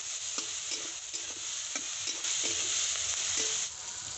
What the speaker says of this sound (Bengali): সবজিগুলোকে কিছুক্ষণ ভেজে নিয়েছি